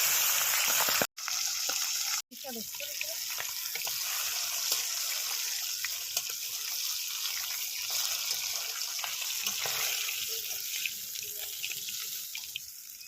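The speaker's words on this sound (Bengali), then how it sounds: "তেল গরম হয়ে গেছে, এবার আমি মাছগুলো ছেড়ে দেবো এক এক করে।" Steady hissing sizzle of small pabda fish frying in hot oil, loud and close, continuing throughout after a couple of brief clicks at the start.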